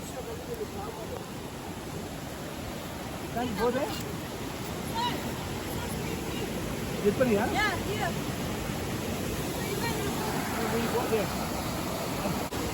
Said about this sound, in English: छोटा सा waterfall